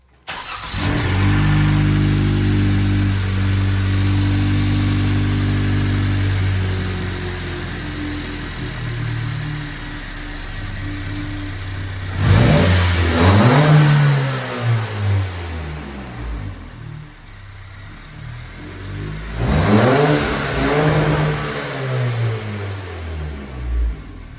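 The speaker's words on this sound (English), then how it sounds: "Here are some sound clips of the car at a standstill and driving by quickly." A 2022 11th-generation Honda Civic engine with an intake resonator-delete kit idles with a steady hum, then revs sharply twice, each rev rising and falling away in a rough, throaty roar.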